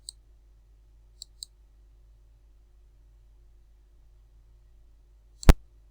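Computer mouse clicks while duplicating a pricing table in a Divi website builder: a few faint, sharp clicks early on, then a single louder click near the end, with near silence between.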